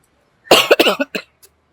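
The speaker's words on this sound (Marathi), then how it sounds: "मला खोकला येतो सारखा" A burst of harsh coughing from one nearby person, several quick coughs in a row followed by a faint trailing one.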